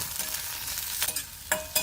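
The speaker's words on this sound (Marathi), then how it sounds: "एक इंच आल्याचे तुकडे एका हिरव्या मिरचीचे तुकडे एका मध्यम आकाराच्या टोमॅटोचे तुकडे थोडीशी कोथिंबीर दोन मिनिट परतून घेऊया" Ginger, green chili, tomato and coriander sautéing in a pan, with a steady close sizzle and a few sharp stirring scrapes of a spoon.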